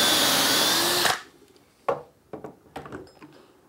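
A power drill bores dowel holes through a Dowelmax jig, a loud steady whine lasting about a second before cutting off, followed by a few sharp clicks and knocks of handling alone.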